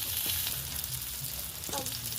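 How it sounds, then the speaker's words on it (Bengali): Prawn paturi wrapped in bottle gourd leaves frying in a pan, a steady close sizzle with faint scraping as the parcels are turned. "এই পাতুরিগুলোকে খুব সুন্দরভাবে উল্টে পাল্টে আরও কিছুক্ষণ ভালোভাবে ভেজে নিচ্ছি"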